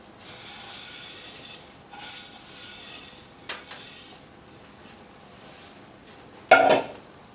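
Beef nali pulao rice being stirred in a pot, a soft scraping and sizzling texture throughout, with a couple of brief louder clanks and a sharp scrape of the utensil near the end.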